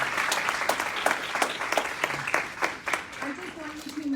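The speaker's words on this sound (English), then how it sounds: "That actually deserves a bigger clap." A conference audience applauds in a sustained burst of rapid, dense clapping that fills the room and tapers slightly toward the end, with no speech over it.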